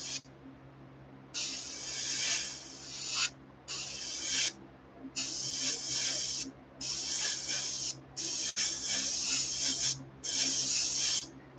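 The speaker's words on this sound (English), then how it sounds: "This isn't spraying very good" An airbrush sprays paint onto a crawfish fishing lure in six or seven hissing bursts of one to two seconds, separated by brief pauses, close and steady, over a low background hum.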